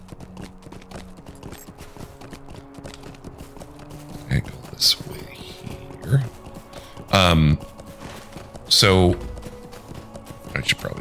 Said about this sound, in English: I should probably just stop the horse.